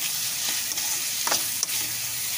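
Prawns for a prawn curry fry and sizzle in a pan, a steady dense crackle with a few soft scrapes and taps as they are stirred, close up and with no talking.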